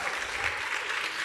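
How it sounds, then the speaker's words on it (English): Audience applause after a film screening at a festival panel event, steady dense clapping from a crowd filling the whole moment without pause. "Another round of applause for that incredible film."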